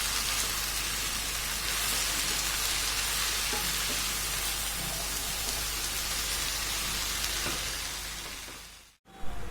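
Kalama saag greens cooking in a pan, a loud, dense steady sizzle and frying hiss with light stirring scrapes, cutting off abruptly near the end.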